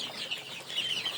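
Hens on a small home poultry farm cluck softly and steadily in a brief burst, with some chirpy higher calls mixed in, heard close by and without talk.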